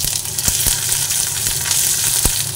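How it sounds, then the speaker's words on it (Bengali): Ginger sizzles in hot oil with a steady broadband crackle, the pan left after fish was fried, with a few sharp pops and stirring clicks rising over the continuous hiss. "আদা দিয়ে আদাটা ভেজে নিচ্ছি"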